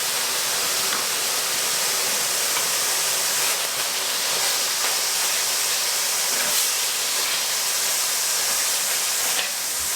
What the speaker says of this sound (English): Let's put the red wine vinegar in there just to declaze the pan a little bit.